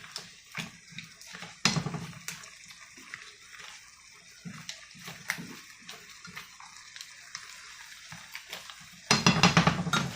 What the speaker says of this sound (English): And now I'm just going to let this reduce.